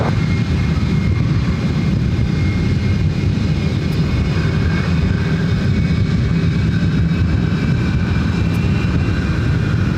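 Aircraft taking off from runway 26 right at Ontario airport in California, a loud steady engine roar that holds at constant strength throughout, heard from nearby.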